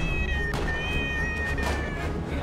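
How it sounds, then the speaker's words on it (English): A cat meows in the video game Rust, with two or three clear, fairly close meows over a steady bed of game background noise. "And I can just hear the cat."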